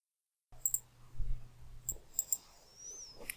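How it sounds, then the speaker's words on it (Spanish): A computer mouse clicks while drawing in Revit, several sharp close clicks spaced irregularly after a brief silence, with faint background hum. "vamos a darle clic acá"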